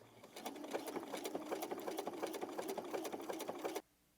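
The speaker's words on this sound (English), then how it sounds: "you can actually sew your buttons with your sewing machine" A sewing machine stitches along the side of a shirt cuff buttonhole, a steady rapid run of needle strokes that stops abruptly near the end, close and alone.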